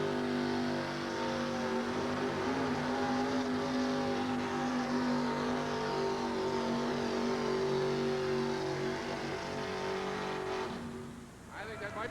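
A monster truck engine roars in a long, loud, sustained rev through a 1988 USHRA truck pull at Albany, then drops off near the end, with an announcer talking over it.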